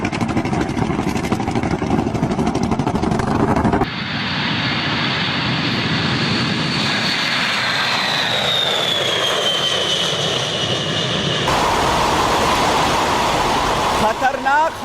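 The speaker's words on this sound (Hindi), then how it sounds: "देखिए आखिर कैसे ये दुश्मनों पर गरजता है।" B-52 Stratofortress bomber jet engines give a loud, continuous roar with a rising whine running through the middle. The noise holds steady throughout, and its character shifts sharply a few times.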